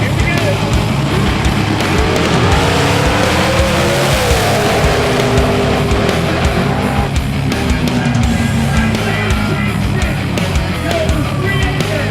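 Drag race cars roaring down the strip in the final race of a South Jersey event, a loud sustained engine howl that rises and shifts pitch, with voices talking over it throughout.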